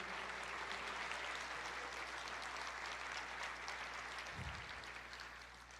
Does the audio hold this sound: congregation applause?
yes